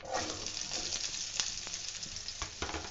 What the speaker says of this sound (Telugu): ముందుగా వచ్చి ప్యాన్లో ఆయిల్ వేసుకున్నాను. సో దాని తర్వాత ఆనియన్స్.